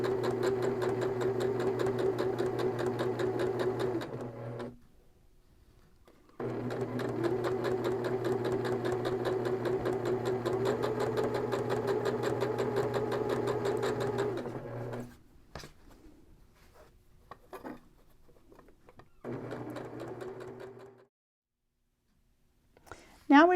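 A sewing machine runs top stitching on a fabric popcorn bag in long steady bursts with fast needle chatter. It pauses in between, then gives a few shorter runs near the end.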